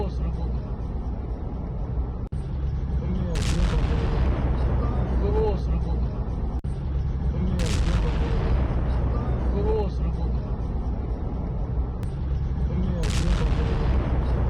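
Air defense fire and explosions boom out during a drone attack, with loud blasts at regular intervals over a constant rumbling roar, while a voice talks throughout.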